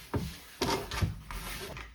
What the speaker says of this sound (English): I'm gonna go ahead and wipe down my drawer.